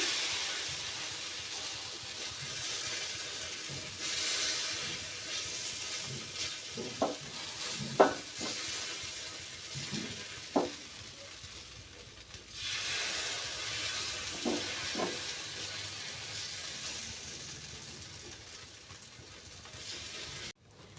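Radish paratha cooking on a hot griddle, a soft steady sizzle and hiss with occasional light clinks and scrapes of a spatula, fairly quiet and close, no voices.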